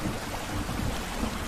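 Continuous heavy rain pouring down in a steady, unbroken wash, loud and close, with no voices.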